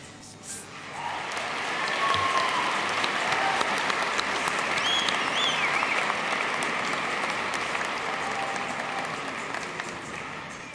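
Sustained applause from a large crowd at a college graduation ceremony, steady and dense clapping that swells in the first couple of seconds and holds for about ten seconds.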